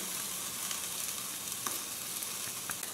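A frozen strip steak searing on a grill gives off a steady, fairly quiet sizzle with faint crackles and pops throughout, and no one speaks.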